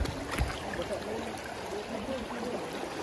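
Strong river current rushing around people wading thigh-deep, a dense continuous wash of flowing water that stays fairly loud throughout the short stretch.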